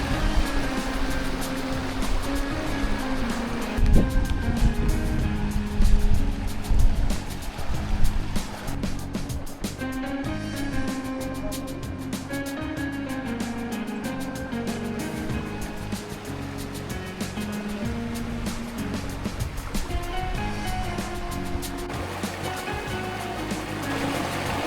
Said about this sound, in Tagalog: ang ganda naman ng river na ito